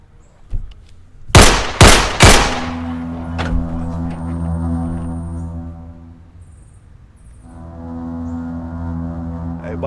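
A rapid burst of loud, close gunshots in a shootout scene of a Jamaican film, several sharp cracks in quick succession followed by a sustained low droning tone.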